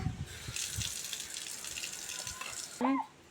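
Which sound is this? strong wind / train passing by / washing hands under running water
washing hands under running water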